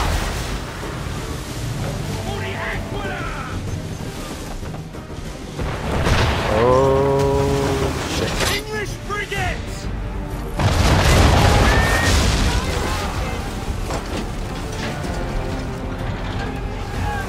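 A sailing ship's cannons fire in booming volleys during a naval battle in Assassin's Creed 3. Heavy blasts and rumbling fill the passage while game voices shout over them.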